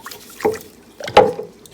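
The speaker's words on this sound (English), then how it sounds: "We're going to give that a quick stir." A spoon stirring liquid brine for Canadian bacon in a container, two short sloshing swirls with light trickles between, close and fairly quiet.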